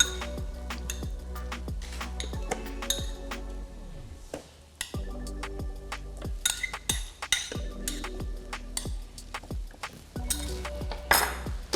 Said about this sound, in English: I'm gonna get a spoon, open my food processor, drop some avocados in there